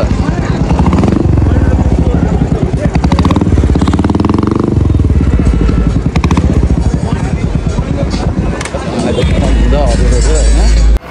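A loud motorcycle engine revving and running close by at a market chowk, a rough throbbing roar that swells and drops, with people talking over it throughout.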